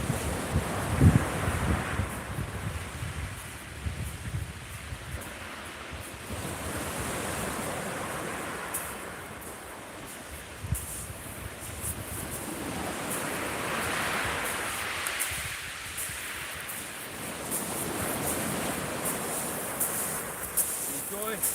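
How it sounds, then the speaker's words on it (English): Wind gusts and sea waves at Chesil Beach make a broad roar that swells and recedes in slow surges, with wind buffeting the microphone throughout. "that wind's a bit terrible"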